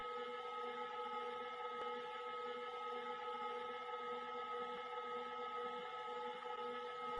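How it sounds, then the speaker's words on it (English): Metal lathe turning down a diameter on a Dog Bone part, a steady even tonal hum with a constant machining drone, unbroken and moderately quiet throughout. "Begin turning down the diameter, stopping at about 15 thousandths from the desired length being turned down."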